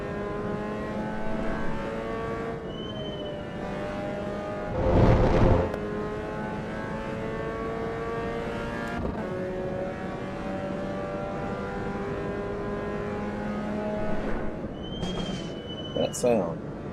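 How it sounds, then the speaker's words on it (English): ABS brakes chattering on a Lotus Exige V6 Cup car, a harsh, droning mechanical buzz over a steady engine note, with a louder burst midway and another near the end, interior and close. "That sound. It's ABS, but it sounds terrible."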